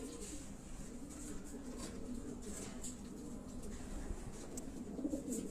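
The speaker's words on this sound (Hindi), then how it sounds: "तो आप अब सैयद अहमद वली लॉफ्ट का एक चैंपियन कबूतर जो है वो आपको दिखाने जा रहे है" Racing pigeons in a loft give off low, soft cooing that runs steadily throughout, mixed with light rustling and faint chirps against a constant background hum.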